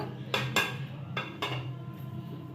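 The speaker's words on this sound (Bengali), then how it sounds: "চিনি শিরার মধ্যে মিষ্টিগুলো দিয়ে দিচ্ছি, সুজির মিষ্টিগুলো।" Semolina sweets dropped into sugar syrup in a metal pan give a few sharp clinks and knocks of a spoon against the pan, spaced irregularly over a low background hum.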